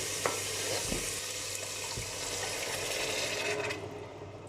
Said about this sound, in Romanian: începem să călim. Adăugăm usturoiul, pun cartoful